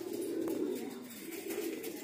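Pet pigeons cooing in a steady, continuous low murmur, fairly close and unbroken, with no speech over it.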